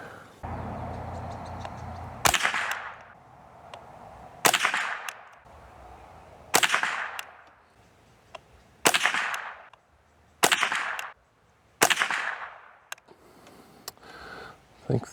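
A Savage Model 64 .22LR rifle firing Winchester 333 rounds outdoors, with seven sharp, loud cracks spaced a couple of seconds apart, each trailing off into a short echo.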